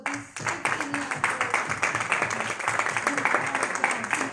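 Applause from an audience for a 15-year-old, a dense patter of clapping with a voice talking over it the whole time.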